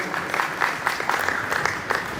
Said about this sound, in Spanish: Y un gran aplauso, por supuesto,